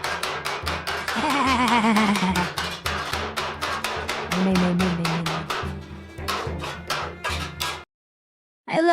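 A blacksmith hammers sheet metal with a rapid, steady series of loud, close metallic blows that ring on briefly, then stop abruptly before a final sharp strike.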